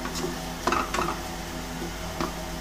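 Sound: onions being lightly fried in a pan

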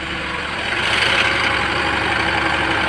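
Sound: refrigerated van engine idling at raised idle

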